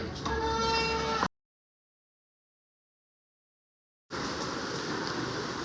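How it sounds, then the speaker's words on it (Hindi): Heavy rain falls outside late at night as a steady, loud hiss, broken by a sudden stretch of total silence before the downpour resumes just as strongly. "और बाहर देखो बारिश कैसे हो रही है, एकदम मस्त मस्त।"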